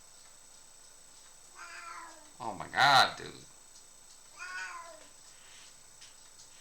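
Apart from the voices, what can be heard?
pet cat meowing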